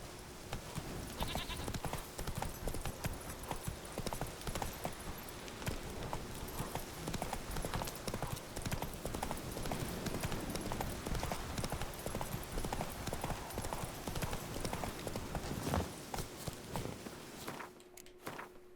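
Roach, the horse in The Witcher 3, trots along with a steady rhythmic clip-clop of hooves, close and continuous, with game ambience underneath.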